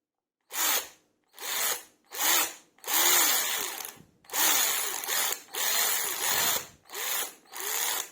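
A Parkside PAR 12 A1 cordless ratchet motor whirs in nine short bursts, each trigger pull spinning up briefly and stopping, close and loud with silence between runs.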